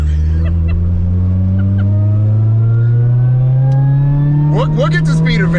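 A Saturn Ion Redline's engine drones loud and steady, its pitch climbing slowly as the car accelerates, with a brief sharper rise and mechanical clatter near the end.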